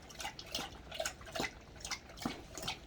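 A Cane Corso dog laps water in quick, irregular wet slurps, quiet and close, with no talking.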